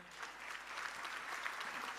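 Audience applause at a Maratha Seva Sangh gathering, a continuous dense patter of many hands clapping from a crowd, moderately distant and even for the whole stretch, with no voices over it.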